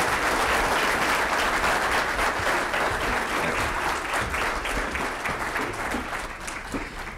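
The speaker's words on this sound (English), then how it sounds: "Round of applause." A crowd gives a sustained round of applause at a city's State of the City address, dense clapping that fades slightly toward the end with no talking.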